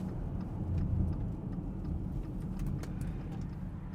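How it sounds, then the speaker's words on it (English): Audi 3.0 TDI diesel engine under full throttle with the drivetrain juddering, a steady low rumbling drone heard from inside the car, with faint uneven pulsing and no talk. "foot flat down, I'm just getting like massive judders through drivetrain"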